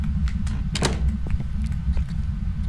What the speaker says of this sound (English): Alright, close the door.